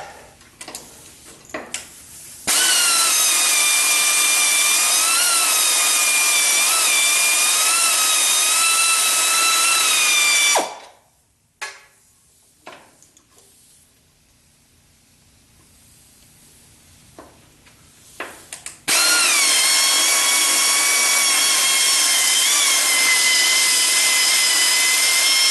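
Power tool whining loudly in two long steady bursts while removing the stabilizer bar from a 1976 Corvette, a tonal pitch that wavers slightly, with a quieter stretch of faint clanks and handling between.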